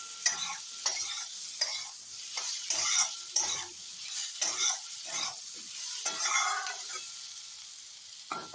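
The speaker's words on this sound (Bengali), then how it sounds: "এই যে দেখুন আমার এটা খুব ভালো করে ভাজা ভাজাটা হয়ে যাচ্ছে" Spice paste frying in a pan for a fish roe fritter curry, stirred in regular scraping strokes roughly every half second over a soft sizzle, close and fairly quiet with no talk.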